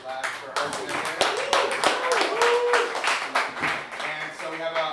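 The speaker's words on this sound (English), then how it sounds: "I want to give a big round of applause to Blue Ridge Labs for hosting us here." Audience clapping for the hosts at a legal hackers demo night, a scattered burst of hand claps mixed with voices talking nearby throughout.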